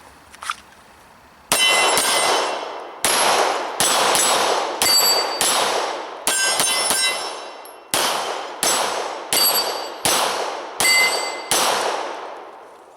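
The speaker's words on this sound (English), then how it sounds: "7 yards away, hitting steel, ringing it" Glock 17 Gen 4 pistol fired at steel targets seven yards away, about a dozen sharp shots each followed by a bright ringing clang, in a steady rhythm after a single faint early pop, loud and close with no talking.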